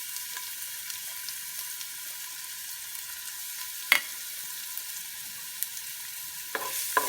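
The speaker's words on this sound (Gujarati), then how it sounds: "પ્રોપર બરાબર હલાવી નાખવાનું એટલે તેલમાં એનો સ્વાદ સરસ મજાનો આવી જાય" Asafoetida, garlic, ginger and chillies frying in hot oil while being stirred: a steady, bright sizzle with a few sharp scraping clicks of the spoon against the pan.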